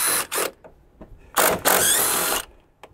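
A ratchet works bolts off the front fascia of a 2023 Jeep Grand Cherokee 4xe Trailhawk, giving close, loud bursts of rapid clicking: two short runs, then a longer one.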